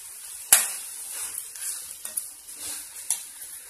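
Onion sautéing in a pan for tomato kurma, a soft hiss with a sharp clink at the start and a few lighter scrapes, close and without talk.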